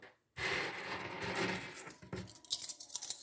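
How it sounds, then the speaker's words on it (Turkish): Coins shaken and jingling in a hand as a listening exercise, a dense metallic rattle lasting nearly three seconds after a short pause, loud and close with brighter clinks near the end. "Şimdi paralar, paralardan nasıl bir ses geliyor?"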